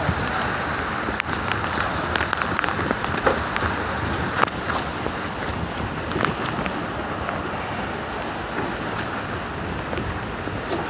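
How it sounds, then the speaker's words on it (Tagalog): Steady rain pattering across surfaces, a dense hiss with scattered sharper drops and a breath of wind, with no talking. "Nag-ulan na mga kasangga."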